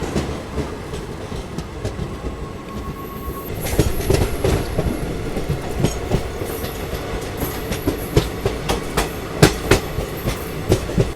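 A Sealdah–Ballia Express passenger train rolls on rails toward Durgapur station, with steady rumble and rhythmic clickety-clack of wheels over joints, faint wheel squeal, heard close from on board with no talking.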